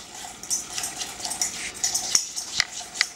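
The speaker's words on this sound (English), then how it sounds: "I'm just going to put a tablespoon at a time of olive oil, just to break it down a little bit. And then what I'm going to do is I'm just going to whisk it" Olive oil being whisked a tablespoon at a time into a salad dressing, with light clinking taps and soft wet stirring in an uneven rhythm, close and fairly quiet.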